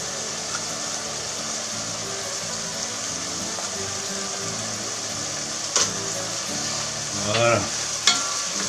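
Onions sweating gently in a pan for a Corsican-style pizza, a low steady sizzle with stirring noises and a few sharp utensil clinks near the end, and a brief spoken word.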